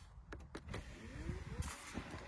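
Power tailgate of a Volvo V90 Cross Country D5 AWD closing on its own, a soft electric motor whine that rises and glides, with a few small clicks and a light thud, heard close and quiet.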